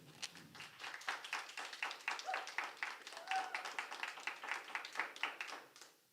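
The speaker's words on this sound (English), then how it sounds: "I guess the applause is helpful" Audience applause in a city council meeting chamber, steady clapping heard from a distance across the room, faint and continuous for about six seconds before fading out.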